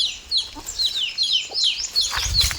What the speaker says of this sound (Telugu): ఈ కోళ్ళు అయితే అడవి కోళ్ళ కనిపిస్తున్నాయి